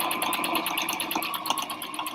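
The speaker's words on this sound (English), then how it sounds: "So now I'm going to be sewing this edge." A sewing machine runs steadily stitching along the edge of a denim bag, producing a fast, even rhythmic mechanical chatter, close and continuous with no talk.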